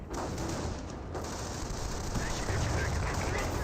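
Bursts of 20 mm cannon shots and gunfire ring out in a Company of Heroes battle, dense and continuous, mixed with talking and other battle noise.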